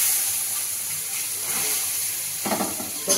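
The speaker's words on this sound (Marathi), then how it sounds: "गॅस बंद करून टाकू आणि उकळलेलं पाणी आपण याच्यात घालून घेऊ।" Boiled water hits a hot pan in a home kitchen, giving a steady, close hiss and sizzle of steam that swells briefly near the end as more water splashes in.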